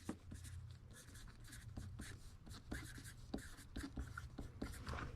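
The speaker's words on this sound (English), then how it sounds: "I'm going to go ahead and write the do not bend so it can dry" A pen or marker writes "do not bend" on a legal flat rate mailing envelope in a quiet room, giving steady scratchy strokes with short taps and pauses as letters are formed, close and soft.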